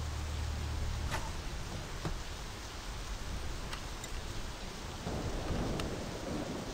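Constant steady rainfall hiss in the video game My Summer Car, with a few sharp crackles and a low rumble of thunder near the start, no talking.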